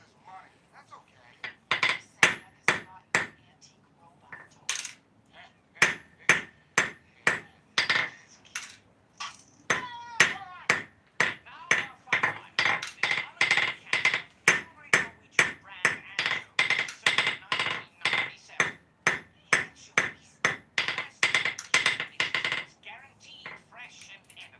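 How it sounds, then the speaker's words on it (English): Hammer blows close butted chainmail rings on an anvil, a long run of sharp metallic strikes in a steady rhythm with brief pauses, loud and close. "I missed the hammer blow on this one"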